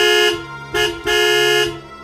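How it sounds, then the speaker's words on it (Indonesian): A car horn honks in three blasts, a longer one, a short tap, then another long one, loud and close with no other sound around it. "Tiba-tiba terdengar suara klakson di telinga kami."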